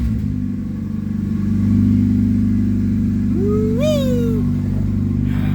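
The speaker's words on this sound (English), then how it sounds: "Let me get this car out of the shop real quick." A car engine idles and rumbles steadily at close range as the car is moved out of a workshop, a low continuous drone with a brief rising whine partway through.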